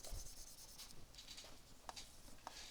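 Pen or pencil scratches across paper during a physics lesson on vector notation, soft rubbing strokes with a few sharper ticks, faint and close, with no talk.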